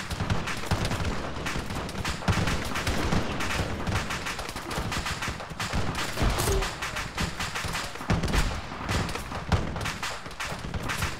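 Dense, continuous gunfire in the video game Halo, with bursts of automatic fire and heavy thuds overlapping without pause for the whole stretch, loud and up close.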